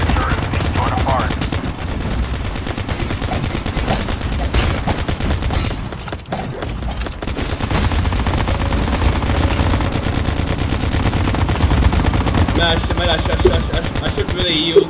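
Sustained rapid automatic gunfire from a zombie-defense video game as enemies assault a player's turret, a dense loud barrage running nearly unbroken throughout with a brief dip midway.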